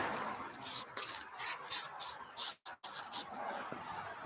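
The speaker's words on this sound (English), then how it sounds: "Maybe we'll redo the bug spray." An aerosol can of mosquito bug spray is fired in a rapid series of short hissing bursts, about ten quick sprays with one brief pause midway, close to the microphone.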